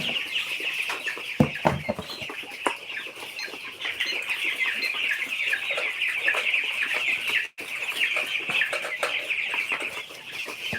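Two-week-old broiler chicks cluck and chirp continuously at close range, a dense, busy flock chatter with occasional louder peeps, steady throughout with a brief dip partway through.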